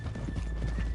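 Horse hooves clip-clop on a town street in the Red Dead Redemption video game, a steady run of close, muffled hoofbeats over a low rumble, with no talk.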